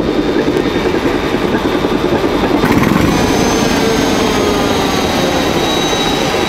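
An old ship's diesel engine, brought back from Libya and shown at an engine collection in Denmark, runs loud and steady with a dense, continuous mechanical roar close by.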